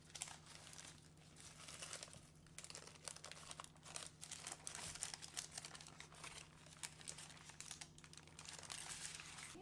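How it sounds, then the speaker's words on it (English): Parchment paper is peeled off a frozen ice cream slab and crinkled, giving a close, continuous crackling and rustling with sharp crisp bursts throughout over a low steady hum. "So that now I can remove the parchment paper that the ice cream was on."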